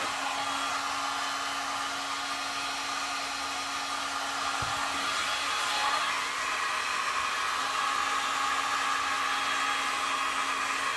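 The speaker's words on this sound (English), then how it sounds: "The heat gun's not doing the effect that she did" A heat gun blows over alcohol inks on tiles, a steady, close whooshing roar of hot air with a faint constant hum underneath that runs unbroken throughout.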